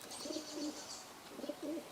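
A pigeon cooing nearby in soft, throaty bursts, two clusters of low rolling coos separated by a brief pause, alone without talk.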